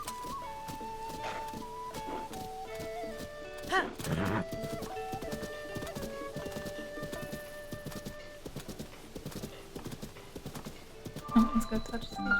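A horse in Zelda: Tears of the Kingdom clip-clops along at a quick gait with a brief whinny, under background game music and a person talking over it.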